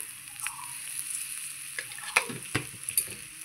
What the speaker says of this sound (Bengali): দেখেন কি সুন্দর করে আমার খানমান পাতা বাটাটা আমি কষাচ্ছি।